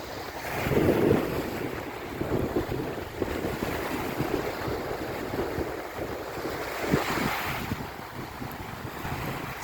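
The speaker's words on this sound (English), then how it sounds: "Sound of the waves." Waves roll onto a windy Lake Michigan beach at Sterling State Park in Michigan, a steady wash of surf with gusts of wind buffeting the microphone throughout. The swells build louder near the start and again later, with no talk.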